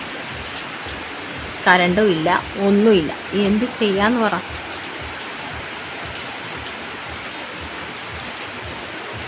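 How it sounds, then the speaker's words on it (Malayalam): Steady rain falls throughout with a constant close hiss and patter on surfaces, while a person talks briefly over it partway through. "മഴ തന്നെ. രാവിലെ മുതൽ തൂങ്ങി നിന്നിട്ട് ദേ ഉച്ചയായപ്പോഴത്തേനും തറയെ വീണു"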